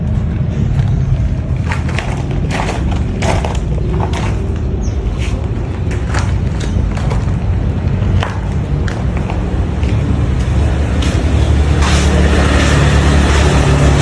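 A 2001 Vespa Exclusive scooter engine, all original with stock exhaust, idles steadily and close, with a low rumbling putter and scattered clicks and taps on top.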